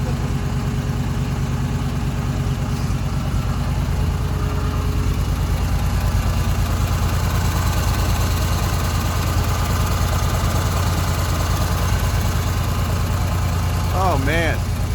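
A 1958 Mack B-21 fire truck, revived after 30 years of sitting, idles with a steady low, knocking rumble throughout, close and loud, while people talk briefly over it.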